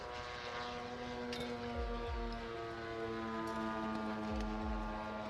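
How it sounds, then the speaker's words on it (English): A Grumman Bearcat carrier-based fighter at an air show drones with a steady propeller hum, holding tones that waver slightly, moderately distant and faint. "So the Bearcat was a carrier-based fighter aircraft."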